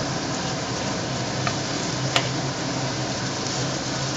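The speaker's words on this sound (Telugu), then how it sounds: "ఇది వేసుకొని పచ్చివాసన పోయేంత వరకు మనం ఫ్రై చేసుకోవాలి" Mutton sizzles steadily in a pan with turmeric and ginger-garlic paste, giving a continuous close, loud frying hiss with a few faint ticks from stirring.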